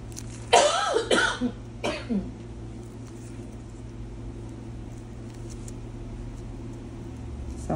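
A few harsh coughs come in quick succession near the start, followed by a quieter cough, then only a low steady hum remains.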